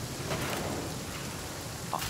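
Steady rain falls in the survival game The Flame in the Flood, a constant soft hiss with faint distant rumbling, even and unbroken throughout.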